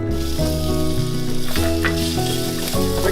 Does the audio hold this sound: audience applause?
no